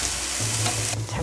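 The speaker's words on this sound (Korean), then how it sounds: "오이하고 당근하고 볶아줄게" Squeezed cucumber and carrot stir-fried in a little cooking oil, giving a brief, steady sizzle with faint stirring, heard alone and close.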